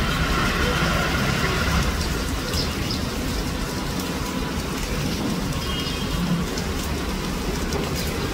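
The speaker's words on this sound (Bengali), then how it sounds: "অনেক বৃষ্টি হয়েছে আজকে আমাদের এখানে, সকাল থেকে বৃষ্টি হয়ে যাচ্ছে।" Steady, continuous rainfall on a wet day, a dense hiss of drops filling the whole scene at an even level with no voices, only a faint low rumble underneath.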